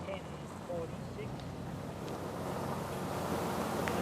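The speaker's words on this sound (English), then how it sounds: "We have a very windy day here in the Hunter Valley." Steady wind on a blustery day in the Hunter Valley, a constant broadband rush and microphone buffeting that grows slightly louder, with no clear voices.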